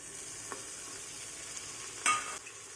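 Browned onions and tomatoes fry in a pan for a vegetable pulav, giving a steady soft sizzle with a few faint stirring scrapes and one brief louder clatter near the end.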